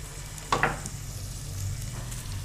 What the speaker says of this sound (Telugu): సో అన్నీ ఒకటేసారి పోపులో వేసేయడం?